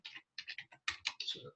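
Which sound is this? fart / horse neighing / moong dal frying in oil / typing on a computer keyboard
typing on a computer keyboard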